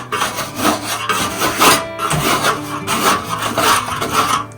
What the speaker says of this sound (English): Take a trowel and trim this back